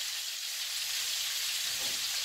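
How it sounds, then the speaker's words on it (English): Steady, dense sizzling of country ribs frying in a hot skillet, loud and continuous throughout with no voices. "All nice and it's frying up."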